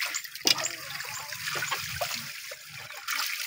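Strong water flows at a farm, a steady close rush with splashing and trickling textures, fairly quiet overall, with a brief sharper splash near the start.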